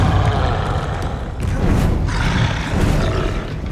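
A troll in the Hogwarts Legacy video game roars and grunts in a loud, close bellow, with heavy thuds and combat noise around it and a short dip midway.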